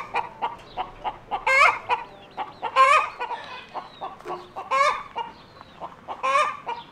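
Chickens cluck and cackle in a busy chaotic chorus in a front garden, with a rooster crowing in loud bursts several times over steady close clucking.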